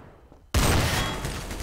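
Gunfire in Garry's Mod DarkRP: a sudden loud blast after a quiet moment, then a sustained dense wash of noise that slowly tails off.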